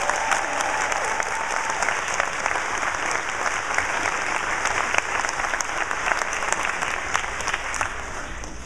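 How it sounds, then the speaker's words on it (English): Sustained audience applause for a group of kids at a live music concert, a dense, steady wash of many hands clapping with no talk over it. "Let's give the kids another applause there."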